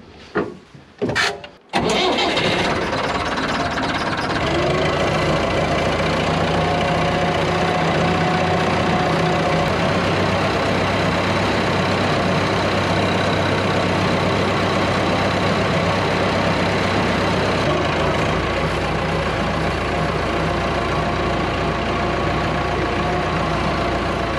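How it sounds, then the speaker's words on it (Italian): A heavy tractor engine rumbles steadily throughout, starting with a few sputtering bursts before settling into a loud, continuous drone as the tractor drives along toward a field. "partiamo col trattore verso il campo"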